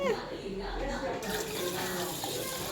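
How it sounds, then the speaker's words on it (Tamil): Water poured from a tap over washed rice in a kitchen, set to soak for dosa batter, a steady splashing flow with a brief change midway, moderately loud and close. "தண்ணி எவ்வளோ தேவையோ அவ்வளோ ஊற்றிக்கிட்டு நான் வச்சுருக்கேன்"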